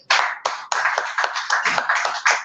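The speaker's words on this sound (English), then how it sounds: "Please give that gentleman a round of applause" A small group claps for a gentleman at a LinkedIn Local 4.0 gathering, several close bursts of hand claps with short gaps, loud and near, no talk over it.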